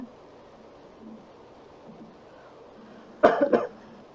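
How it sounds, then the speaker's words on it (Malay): After a quiet stretch of low room hum, someone on an open microphone during an online class gives a short, sharp double cough that stands out clearly. "Siapa pula yang batuk tu?"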